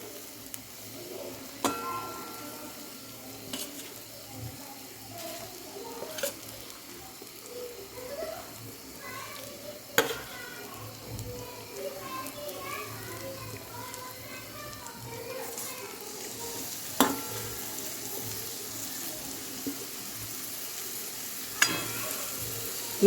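Fried eggs are added to browned, sizzling masala for a spicy Marathi-style egg curry, with a low steady fry broken by occasional spoon clinks and stirring knocks, faint and a little distant, with some talk and background noise.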